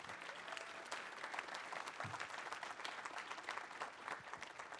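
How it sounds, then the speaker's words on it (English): Steady applause from a panel discussion audience, dense clapping that carries on throughout at an even level. "Maybe round of applause for them."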